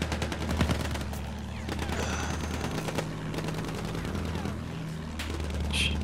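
Rapid bursts of automatic weapon fire and scattered shots crackle through a Battlefield 1 match, dense and continuous over a low engine-like drone, with occasional game sounds on top.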